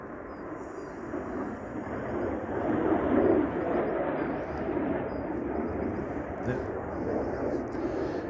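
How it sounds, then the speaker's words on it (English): A plane flies near an airfield, a steady, broad engine rumble that swells slightly midway and holds throughout, heard outdoors with faint bird calls above it. "There's another plane there."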